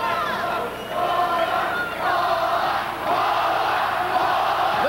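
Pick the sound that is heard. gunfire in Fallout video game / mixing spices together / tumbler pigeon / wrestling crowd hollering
wrestling crowd hollering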